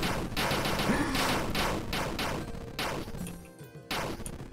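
Explosions in a homemade 8-bit MMO video game written in C++: several sharp, loud blasts in quick succession with crashing bursts.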